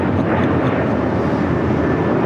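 Airplane departing LAX, a loud continuous broadband engine roar that holds steady and close throughout, with no breaks.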